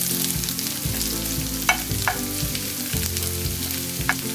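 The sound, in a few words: onion frying and being stirred in a pan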